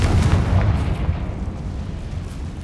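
A Confringo fire spell explodes in Hogwarts Legacy, giving a loud, deep, rumbling burst that is strongest at the start and then rolls on as a sustained low roar.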